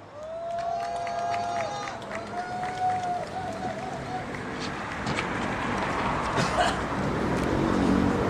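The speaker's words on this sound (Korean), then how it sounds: "힘찬 박수로 맞이해주시기 바랍니다." Applause and cheering build from an outdoor rally crowd at a protest event as a student dance group is welcomed, rising steadily louder toward the end, with a sustained tone and faint talk early on.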